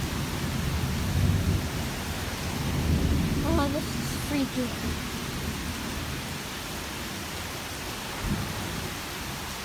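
A thunderstorm during an eclipse brings steady heavy rain hissing throughout, with low rumbling thunder rolling through the background while a person briefly speaks.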